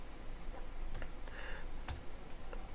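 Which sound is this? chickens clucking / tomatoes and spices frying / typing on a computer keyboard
typing on a computer keyboard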